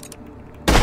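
A modded Jacobs gun in Borderlands 2 fires a single loud burst of shots, cutting in abruptly after a quiet moment.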